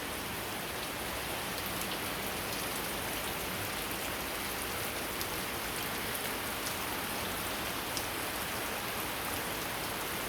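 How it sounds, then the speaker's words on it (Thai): Steady rain falls in an outdoor garden with flowers, a dense, even patter of drops on surfaces that holds constant and loud throughout, with no voices. "ก็ฝนตกมาแบบนี้ดีแล้วครับ"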